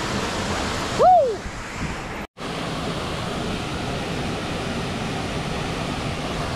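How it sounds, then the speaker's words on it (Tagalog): Falling water from a waterfall near a bridge roars in a loud, continuous wash, broken by one short whoop early on and a momentary dropout. "Ito yung paanong bagsak ng tubig dito"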